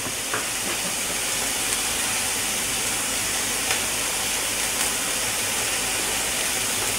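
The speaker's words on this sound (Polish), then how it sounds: "Cebula się smaży." Onion fries in a pan for paprika soup, giving a dense, even hiss of sizzling oil that holds steady and close throughout, with no stirring or talk.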